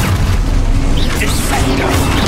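The Confringo fire spell goes off in Hogwarts Legacy, a loud booming blast with crackling bursts packed densely into about two seconds of a video game fight.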